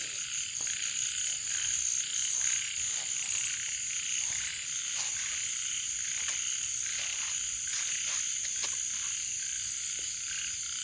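Frogs croak in a steady, dense chorus after rain has stopped in a wet rural field in Thailand, with rapid repeated calls layered close and continuous throughout, no voices present.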